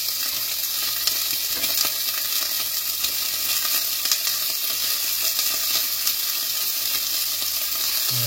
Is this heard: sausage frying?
yes